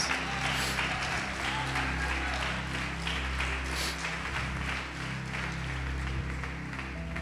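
A church congregation applauding during a sermon, steady sustained clapping from a large crowd over a low droning hum, with no pause across the stretch.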